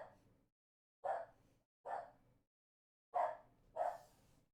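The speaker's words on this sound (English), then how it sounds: "My dog must sing the song of her people." A pet dog gives five short, separate howling barks at uneven intervals, each a brief rising yelp, alone in a quiet room and fairly faint.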